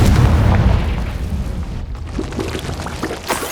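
A Confringo fire spell explosion in the Hogwarts Legacy video game gives a loud booming burst at the start that fades into a crackling, rumbling tail.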